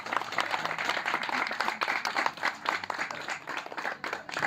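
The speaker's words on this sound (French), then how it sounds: "Je pense qu'on peut applaudir notre conférencière." An audience claps for a woman lecturer at the close of her talk, a steady dense patter of many hands filling the room for several seconds, with no voices over it.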